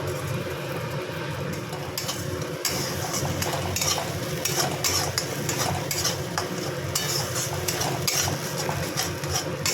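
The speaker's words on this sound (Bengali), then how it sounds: "এই যে মশলাটা ভালো করে ভাজা হয়ে গেছে" Spice paste frying and being stirred in a pan for a paneer, potato and cauliflower curry, with a steady sizzle and repeated scraping and clinking of the spoon against the metal pan, close and continuous.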